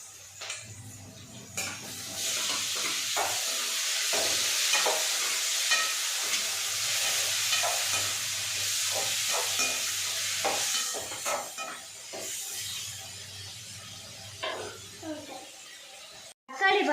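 Onions and tomatoes fry in oil for a dried-fish thokku, a continuous sizzle broken by repeated clatters of a spoon stirring in the pan. A voice speaks over it at times.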